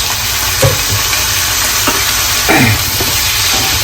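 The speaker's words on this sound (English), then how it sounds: "I'm just going to mix the potato with the onion and fry it for a minute in low heat" Potatoes and onion fry in a pan over low heat for aloo methi, giving a steady, loud sizzling hiss with a few brief scraping stirs of the spoon through the mixture.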